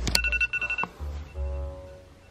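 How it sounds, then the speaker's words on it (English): An Apple iPhone alarm rings in the morning, a bright repeating electronic chime in quick pulses that stops abruptly, followed by a quieter low hum. "the worst sound in the entire world is the Apple alarm"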